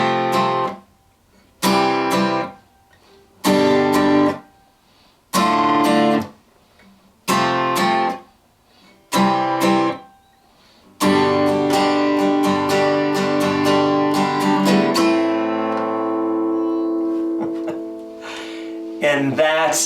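Acoustic guitar strumming chords for a breakup song, each chord hit with two solid downstrokes in a steady stop-start pattern, then a sustained ringing run of strums fading near the end; close and clear, no talk.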